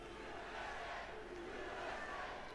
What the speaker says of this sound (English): On Bloomberg TV and radio with a USA chant in the crowd.